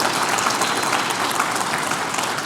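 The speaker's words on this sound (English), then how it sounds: "Can we get a round of applause for everybody involved in this?" Conference audience at the React Rally 2023 talk applauding, a dense, continuous roar of clapping, close and even, with no talk over it.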